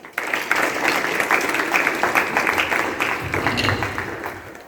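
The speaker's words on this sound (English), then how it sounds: "Let us give a big round of applause for all of them." A school audience at a National Pollution Control Day assembly breaks into a loud, dense round of applause, many hands clapping steadily for nearly five seconds with some voices mixed in.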